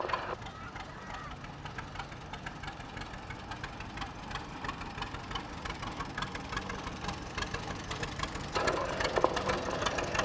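A 1934 John Deere GP tractor engine runs steadily at a parade, a continuous mid-level chugging over crowd murmur and outdoor background noise.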